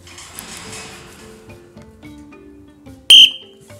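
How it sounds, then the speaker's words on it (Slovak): A keeper blows a short, sharp whistle once during spotted hyena feeding and care, loud and brief against quiet background activity. "keď ja zapískam, on vie, že už sa niečo veze"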